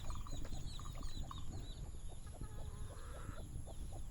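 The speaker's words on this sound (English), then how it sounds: "Loads of chickens." Village chickens cluck and chatter continuously in an outdoor street in Vang Vieng, Laos, several birds at moderate distance over a steady low rumble of ambient background noise, with occasional higher calls.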